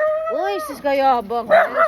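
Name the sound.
big dog barking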